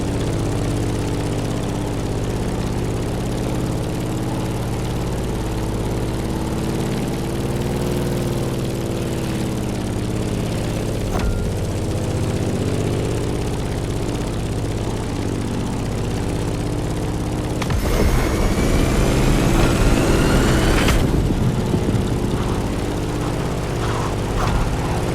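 Propeller plane in the racing game The Crew Motorfest, a once-reliable vintage aircraft used for combat, aerobatics and air racing, droning steadily and loudly with a constant engine hum that briefly swells and roughens before settling again.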